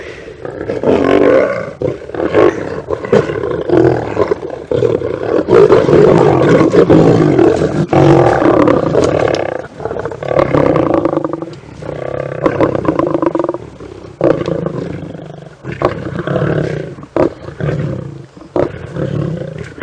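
A lion roars loudly and close, a long series of deep, rumbling bellows that swell and then break into shorter grunting roars.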